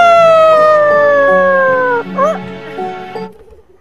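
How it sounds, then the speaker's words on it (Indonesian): A rooster crows in the morning with a loud, close, drawn-out call that slowly falls in pitch, then breaks into a brief wavering flourish before trailing off. "Keesokan paginya, ketika ayam jantannya berkokok,"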